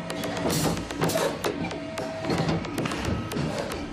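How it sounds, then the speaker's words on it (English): A football panel-punching machine stamps shaped hexagon and pentagon panels from sheet material, giving a steady run of sharp, rapid mechanical taps and thumps over a constant factory hum. "This machine punches out the shaped panels that will make the football."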